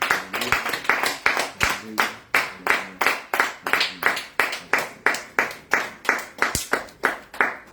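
A church congregation claps in a steady rhythmic beat, around two claps per second, loud and close throughout, with vocal sounds mixed in among the hands.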